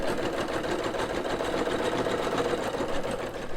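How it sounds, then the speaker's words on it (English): A Singer Superb EM200 embroidery machine stitches a design with a fast, even needle chatter and a motor hum that holds steady and close throughout. "It'll stitch a little bit and then stop and tell you to trim the thread tail"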